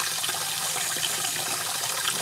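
Water is poured steadily for cooking beans to make pupusas, a continuous splashing, gushing flow at moderate level with no speech.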